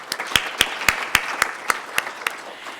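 Sparse clapping from a small forum audience thanking event sponsors, about nine distinct claps at a steady beat, fairly close and clear over a quiet background.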